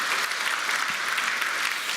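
Steady applause from a church congregation after a sermon call to give thanks, dense and even clapping filling the room with no pauses.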